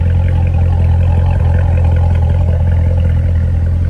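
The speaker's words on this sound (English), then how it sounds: "Around the back, you can hear that wicked exhaust." A 2017 Chevrolet Corvette Z06 C7 with the Z07 track package, heard from behind at the exhaust, gives a loud, steady low rumble with a throaty, slightly rising rev throughout, and no talking.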